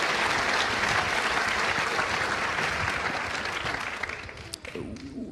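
A large conference audience gives a big round of applause for a speaker, a dense, steady wash of clapping that thins out slightly near the end as talking begins.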